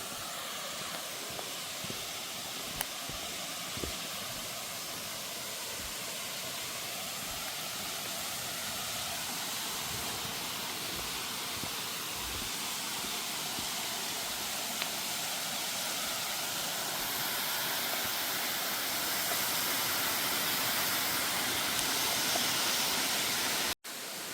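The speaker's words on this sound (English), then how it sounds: "Ended up perfectly right as we reached the waterfalls." Waterfall at the end of a hiking trail, a steady broadband rush of falling water that holds at an even level throughout, with no talking.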